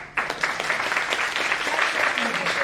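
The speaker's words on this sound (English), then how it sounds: "Let's clap." A small group applauding after a talk, a brief burst of close, uneven clapping that starts abruptly and continues steadily with a voice underneath.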